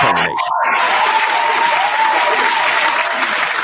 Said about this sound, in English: Round of applause for you if you had good holidays and you had a happy new year